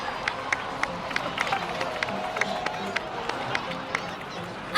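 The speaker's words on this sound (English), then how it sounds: "please give another round of applause for them" A crowd applauding during a celebration for heroes in Genshin Impact, with steady clapping and cheering from a crowd at middle distance over a low background murmur, with no voice talking over it.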